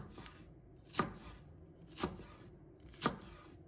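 A knife chopping green onion into small pieces on a board, three crisp spaced cuts about a second apart, close and quiet, with a softer tap before the first, no speech.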